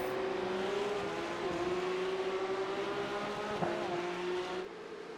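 Porsche Cup race cars in a racing simulation game at Fuji give a continuous high engine drone with slowly shifting pitch, several cars blending together, plus a brief knock near the end.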